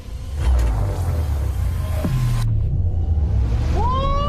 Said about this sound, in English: This is a Blazer EV SS. Let's see what wild mode can do.